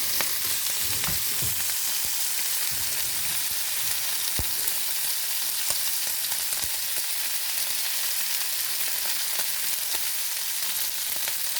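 A juicy steak fries in a little olive oil in a pan, giving a steady, close sizzle with frequent small pops and crackles and a few soft bumps from handling the meat.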